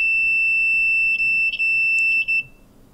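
A multimeter on continuity test beeps while checking the contacts on a spotlight handle, giving a loud, steady high-pitched tone that breaks off briefly twice before stopping.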